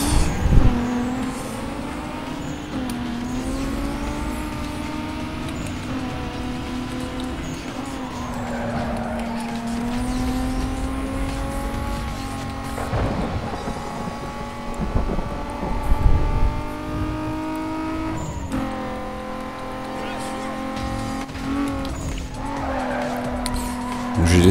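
Race cars roar around a circuit in Need for Speed Most Wanted (2005), engines droning steadily with tyre squeal and skids, loud and continuous, with a voice speaking over the game throughout.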